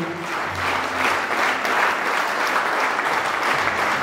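A wedding audience claps steadily for honoured heroes, a dense, even wave of applause that holds at full strength from start to finish with no voices over it.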